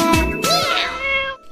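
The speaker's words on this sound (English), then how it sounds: "Meow! Meow, meow." A cat meows loudly and close by, one long drawn-out call with a rising then falling pitch.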